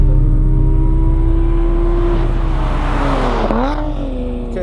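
A 2017 Lotus Evora 400 with a supercharged engine revs up loud and close, its pitch climbing steadily before a sharp cut just short of redline, then dropping and picking up again.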